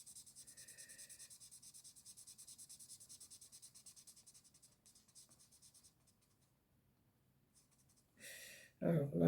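Pencil rubbed steadily back and forth across paper while colouring a picture, a soft rhythmic scratching that runs close and continuous, fades into pauses, then ends with louder handling bumps.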